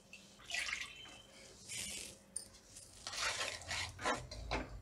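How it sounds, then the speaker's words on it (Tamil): Water splashes and trickles into a pan of jaggery in a few uneven bursts, with light clinks of metal, close by and fairly quiet. "1/2 டம்ளர் தண்ணி சேர்த்துக்கோங்க."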